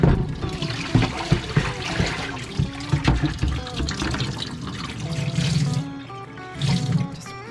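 Water drains and trickles out of a vessel of soaked wool fibre after a soap soak and hot rinse, with gurgling splashes and uneven pours that rise and fall, close by.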